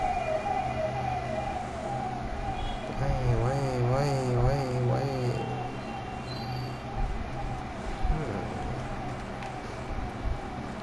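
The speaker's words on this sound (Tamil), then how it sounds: "ஆம்புலன்ஸ் போகுது." An ambulance siren wails past, its rising and falling tones loudest mid-clip and then fading, over a steady background hum.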